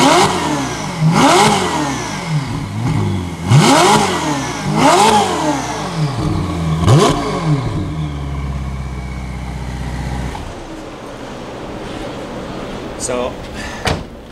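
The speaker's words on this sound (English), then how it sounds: "get the exhaust opened up a little bit so everybody can hear" A Ferrari 488 engine with opened-up exhaust revs hard several times in quick sharp bursts, then settles into a low idle rumble before a door sound.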